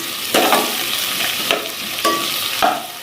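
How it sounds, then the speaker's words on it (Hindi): Chicken Manchurian vegetables stir-fried over a high flame give a loud, continuous sizzle broken by four sharp scrapes and tosses of the spatula in the wok, alone with no talk. "इसे 1 मिनट के लिए फ्राई करेंगे अच्छी तरह, और आग नीचे से बिल्कुल तेज़ रखेंगे।"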